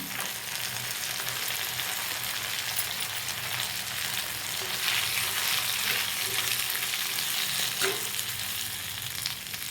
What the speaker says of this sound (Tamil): இப்போ தேங்காய் ஆட் பண்ணிக்கிறேன்.